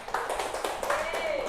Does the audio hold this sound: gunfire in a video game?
no